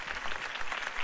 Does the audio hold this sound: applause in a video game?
yes